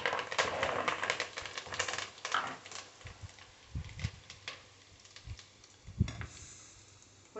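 Curry leaves dropped into hot oil for tempering a Telangana tomato pickle, giving irregular sharp crackles and pops in quick bursts, fairly faint and close, with no talk.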